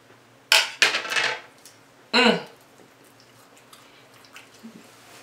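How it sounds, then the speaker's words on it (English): A butter knife cuts through a hamburger steak on a plate, giving a few short scraping clinks of metal against dishware. The sounds are close and separated by quiet pauses. "I'm cutting this with a butter knife"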